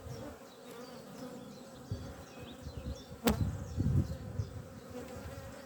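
Honey bees drone steadily at a hive entrance in an Irish apiary in spring, a dense continuous buzz with some louder, closer passes near the middle.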